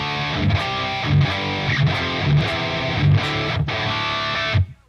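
Heavily distorted electric guitar played through a metal amp simulator, loud, thick, sustained chords struck in a steady rhythm of repeated hits, ringing out and then cut off abruptly at the end, with no talk.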